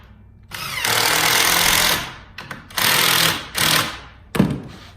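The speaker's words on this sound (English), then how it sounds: "I'm gonna go ahead and screw it in." A power drill driving screws into the top piece of a wooden cabinet face frame: several loud close bursts of whirring, a long one followed by shorter runs separated by brief pauses.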